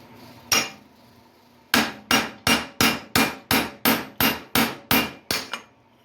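Hammer driving out a rivet on a 1993 Ford Bronco during smog pump replacement: one sharp metallic strike, a pause, then a steady run of about ten loud, evenly spaced blows, close and without talking.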